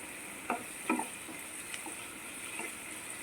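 Chicken pieces sizzle quietly in oil as a spoon stirs them in a few light scrapes and taps, the frying soft and close, with no talking.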